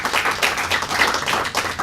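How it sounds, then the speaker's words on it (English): Audience applause at a political breakout session on gun violence, a dense steady wash of many hands clapping, loud and continuous for the whole stretch with no talking over it. "Can we give a round of applause"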